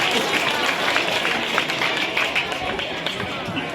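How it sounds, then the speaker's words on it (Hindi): Audience applause at a school Republic Day paver tiling dedication in Nimbahedi: a dense, steady wash of many hands clapping, loud and continuous with scattered sharp claps throughout. "जोरदार तालियां एक बार।"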